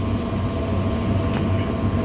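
A loud, steady London Underground Central Line train rumble as it slows, with a low droning hum and a faint brief squeal from the wheels.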